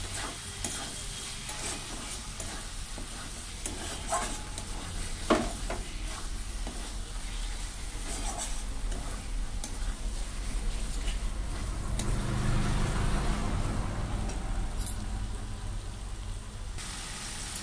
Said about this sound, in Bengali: এবার অক্টোপাসটা দিয়ে কষবো।